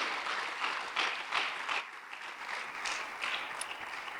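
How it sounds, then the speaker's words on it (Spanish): A church congregation claps together in a brief, fairly faint burst of applause with uneven rhythmic peaks, heard from a distance. "Démosle fuerte las palmas al Rey de Reyes."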